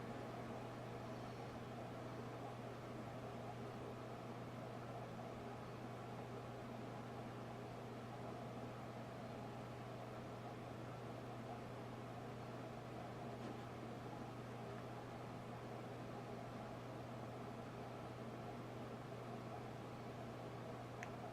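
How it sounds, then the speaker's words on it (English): An airbrush sprays brown colour onto a fondant basket cake, giving a steady, unbroken hiss over a low mechanical hum for the whole stretch, with no talking. "So when we're adding the airbrush color, I'm just taking a little bit of brown"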